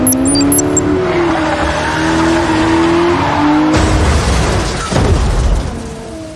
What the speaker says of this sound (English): the way the water sprays off the tires and the car spins sideways shows decent physical accuracy